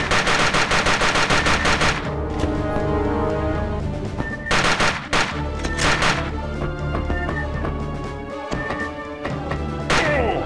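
Gunshots from the Aliens Infestation video game, with a pistol in use, ring out as loud sharp repeated cracks in quick clusters over a busy game soundtrack, and no one speaks.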